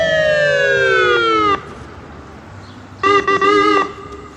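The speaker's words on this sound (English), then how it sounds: "Let me let this ambulance pass real quick." An ambulance siren passes on a highway, loud and close, first as a long descending wail that cuts off, then as a shorter burst a second and a half later.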